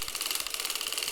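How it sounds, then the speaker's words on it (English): A hand-cranked circular sock knitting machine turning steadily, giving a quick, even, rhythmic clatter of repeated mechanical clicks at close range, fairly quiet and with no voices. "hold on firmly at the bottom while you crank"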